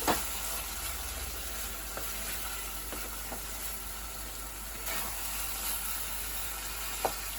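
Aloo posto, potatoes with poppy seed and green chillies, cooking in a pan, giving a steady low sizzle throughout with a few faint clicks of utensils.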